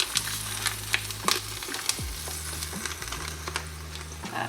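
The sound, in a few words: Impossible meat frying in a pot for vegan chili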